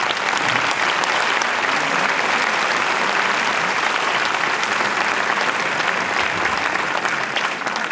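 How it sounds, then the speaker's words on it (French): Audience applause welcoming doctors to the stage at a public health conference on the brain and memory, steady dense clapping from a large crowd lasting throughout, loud and even with no talk over it. "je vais demander tout de suite au docteur Jean-Philippe Ténin, au docteur Catherine Bénard, au docteur Vincent de la Sayette et au docteur Béatrice Desgranges de bien vouloir me rejoindre sous vos applaudissements."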